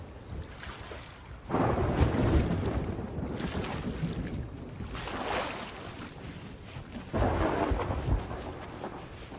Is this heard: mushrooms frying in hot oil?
no